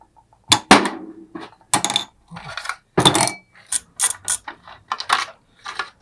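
Non-metal screws on a motorcycle are worked loose, giving a series of close, sharp plastic clicks, ratcheting bursts and small clatters in uneven clusters against near silence.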